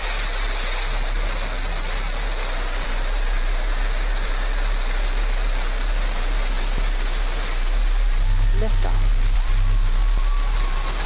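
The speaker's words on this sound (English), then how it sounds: "command engine start, 2, 1, ignition" A Blue Origin New Shepard rocket's engine ignites and lifts off, a dense, continuous broadband roar with a deep rumble that swells louder toward the end.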